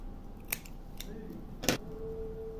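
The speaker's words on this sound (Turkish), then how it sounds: "Şu şekilde kesiyorum ipleri." Scissors snip through paper cord for a crochet bag, giving a few quiet, crisp cuts spaced out over a steady low background hum.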